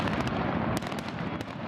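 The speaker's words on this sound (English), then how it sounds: "Fireworks ended a day of festivities celebrating King Frederik X and his Australian Queen" Fireworks burst at a royal celebration for King Frederik X in Copenhagen, with a dense, continuous crackle and several sharper pops coming through over a few seconds.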